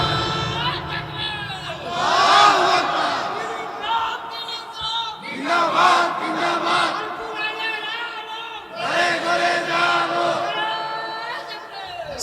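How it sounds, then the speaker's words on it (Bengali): A large crowd at an Islamic religious gathering loudly chants the Nara-e-Takbir slogan in repeated call-and-response waves, voices swelling together in three distinct rounds. "আওয়াজ হবে নারায়ে তাকবীর, নারায়ে তাকবীর"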